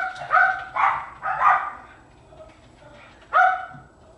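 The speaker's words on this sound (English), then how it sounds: "That's Wicket's hurt bark." A dog gives a hurt bark: three quick sharp yelps close together, then a pause and one more loud yelp, close and clear with no talk.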